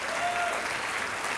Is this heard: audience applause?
yes